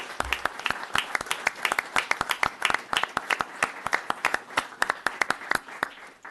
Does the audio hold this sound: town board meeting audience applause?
yes